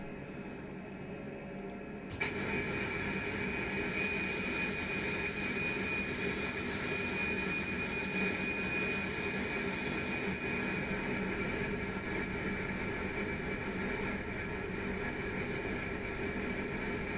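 Steady, loud roar of Fenix A320 jet engines on landing approach in Microsoft Flight Simulator 2020, rising abruptly after a quieter start and holding a continuous drone with a high whine until the end.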